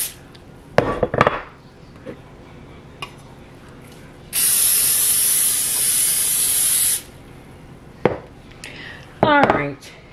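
Cooking spray hisses into a ramekin in one steady burst of about two and a half seconds, set among kitchen clatter and brief talk before and after.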